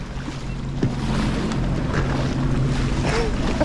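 A Sea-Doo personal watercraft runs through large open-ocean swells off Catalina in high wind, its engine droning steadily under wind buffeting and water slaps.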